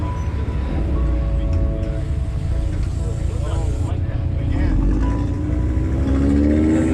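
A Mitsubishi Evo drives past on the Nordschleife, an engine note rising and swelling as it approaches while a voice talks over the steady vehicle noise.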